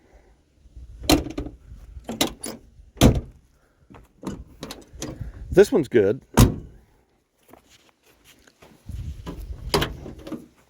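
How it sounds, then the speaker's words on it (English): Power door lock actuators on a 1988-91 Ford Crown Victoria LX wagon, with the two front ones not working, give several sharp mechanical clunks and clicks in an irregular series, close and fairly loud, mixed with a person's brief speech. "Oh, door lock actuators, because the two front ones don't work."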